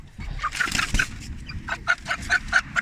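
Several hens clucking close by in short, repeated bursts as they go in to roost for the evening, fairly loud, with light background rustling.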